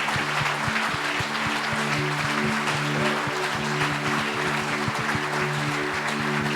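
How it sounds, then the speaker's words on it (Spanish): Church congregation applauding during a Spanish-language sermon, sustained clapping with distinct individual claps over a steady low organ or keyboard drone and some hum. "Ahora sí, denle un aplauso al Señor Jesús."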